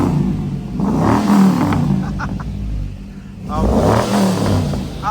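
A race van's engine blips with a couple of quick revs that rise and fall, close and loud, while people talk nearby.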